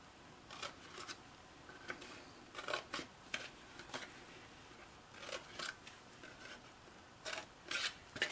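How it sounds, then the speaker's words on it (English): Scissors snipping paper tabs along score lines, a quiet run of irregular crisp cuts and rasping strokes coming in short clusters, close and faint, with no talking. "now we're going to cut on one of the score lines on each of the 4 tabs"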